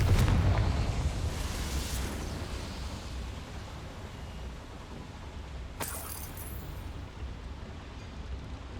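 A Confringo fire-blast spell explodes inside a small goblin mine in Hogwarts Legacy, a loud burst at the start that rumbles away into a low roar, with a second sharp crack and hiss partway through.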